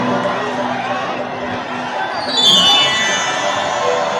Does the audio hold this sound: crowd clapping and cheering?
yes